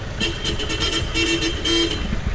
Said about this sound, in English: now it's honking